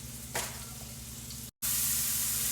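Ground beef dusted with flour sizzles steadily in a pan, with a brief scrape as it is turned, then a sharper burst of hiss as liquid hits the hot pan to deglaze it.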